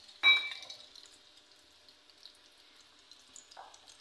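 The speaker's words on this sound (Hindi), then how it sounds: "और हम इसको करेंगे फ्राई" A breaded chicken patty, dipped in egg and coated in crumbs, hits a hot pan with a sudden hissing sizzle that quickly settles into a faint, steady frying crackle.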